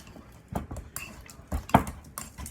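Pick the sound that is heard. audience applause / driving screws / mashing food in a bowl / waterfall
mashing food in a bowl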